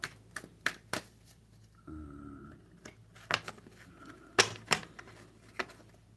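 Quiet tarot card shuffling with light slaps and taps, plus a short riffling flutter partway through, close by with no talking.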